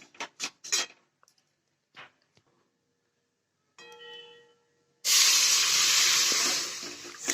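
Milk goes into a hot pan for broccoli white sauce pasta: a few sparse metallic clinks and quiet scrapes, then a sudden loud, hissing sizzle that carries on steadily to the end.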